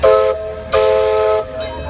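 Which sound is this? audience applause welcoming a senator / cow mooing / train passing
train passing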